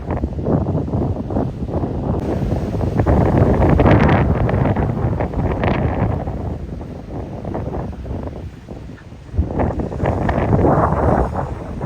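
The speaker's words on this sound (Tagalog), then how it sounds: "Super lakas ng hangin guys." Strong wind on an island shore with big waves roars and buffets the microphone continuously, a loud rushing with gusts rising and falling throughout.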